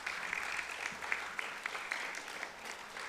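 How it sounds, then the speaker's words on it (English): An audience claps at a school commencement service, a sustained wash of applause heard from a moderate distance with scattered sharper claps, no voices over it. "Please give them a round of applause"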